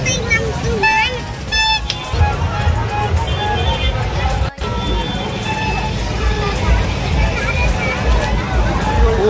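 Dense crowd hubbub at the Devgarh village fair, a steady thick wash of many voices and footsteps with occasional horn-like toots, close and continuous, someone talking over it.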